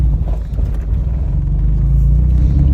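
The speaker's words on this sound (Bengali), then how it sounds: "আরে গাড়ি রানিং হয়ে গেছে" A car engine runs during a driving lesson, giving a close, steady low rumble that holds evenly throughout with no noticeable revving.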